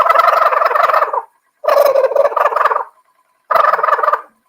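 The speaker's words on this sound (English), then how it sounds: "Is there a turkey in here?" A shaken novelty noisemaker gives out a loud turkey gobble, three bursts with brief silent gaps between them, close by and with nothing else heard.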